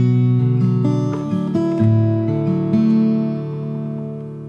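Fingerstyle guitar in an open tuning plays the opening of the verse, ringing open strings under plucked melody notes in a flowing pattern, close up and alone.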